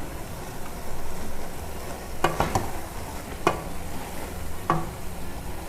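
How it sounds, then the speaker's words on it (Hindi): Whole spices for shami kabab dry-roast in a pan, with a soft continuous sizzle broken by a few sharp scrapes and knocks of a spoon stirring against the metal. "बस इसको 3-4 मिनट हम चलाएंगे।"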